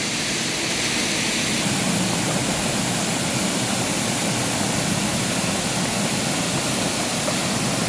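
A waterfall pouring into a creek, heard as a loud, continuous broadband roar of rushing water, steady throughout with no other sounds or voices.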